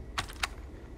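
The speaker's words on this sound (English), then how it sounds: "I'm going to type the 1, 2, 3 chord on the display now" Two quick plastic key clicks, pressed as a chord on a braille display keyboard, crisp and close in an otherwise quiet room.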